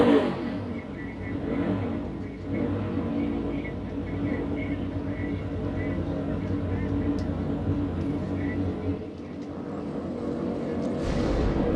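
NASCAR Cup Series stock cars roar past on the track during the Clash at Bowman Gray, a steady, loud engine drone that swells and fades as the pack goes by, with commentators talking over it.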